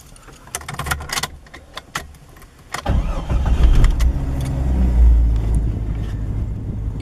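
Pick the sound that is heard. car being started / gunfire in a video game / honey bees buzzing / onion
car being started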